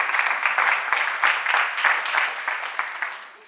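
A live audience applauds the good doctors at a community gathering, a steady, fairly close wash of many hands clapping that holds for a few seconds, with a faint voice now and then above it.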